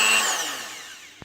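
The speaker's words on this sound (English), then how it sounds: "oscillating multi-tool and just take out the nails with a different bit on this corner and that corner" An oscillating multi-tool used to remove nails from a garage wall beam gives a brief close whine that winds down quickly, ending with a single small knock.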